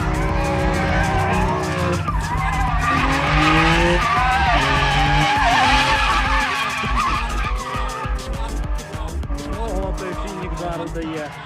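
A Camaro V6 is floored at full throttle, its engine roaring loudly with shifting pitch and tire noise, while people talk excitedly over it.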